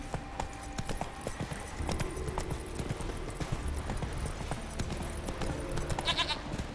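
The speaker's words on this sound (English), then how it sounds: "Run, Roach." Horse galloping in The Witcher 3 video game, rhythmic clip-clop hoofbeats running steadily throughout at moderate volume beneath game ambience.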